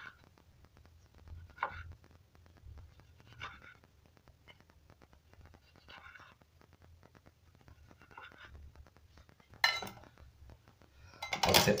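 A knife slicing a tomato into thin slices on a cutting board: faint, evenly spaced taps in a steady rhythm, followed by a louder clatter of utensils near the end, with no speech.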